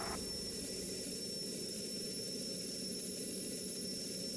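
A jet fighter engine in the Strike Fighters 2 flight game holds a steady, loud roar at climbing power with a high whine, running unbroken from start to finish with no other sounds.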